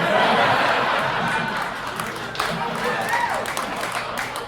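Audience at a comedy show at The Laughing Tap in Milwaukee breaks into a burst of applause mixed with cheers and laughter, loud at first and fading, with scattered voices in the crowd.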